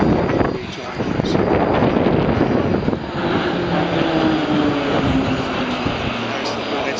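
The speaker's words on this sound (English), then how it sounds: "in the circuit at the moment, we've got the Roulettes aerobatic team" The Roulettes aerobatic team's propeller aircraft fly the circuit at an airshow, producing a loud, steady engine roar with wind buffeting, while a descending tone sweeps across as one passes, over background voices.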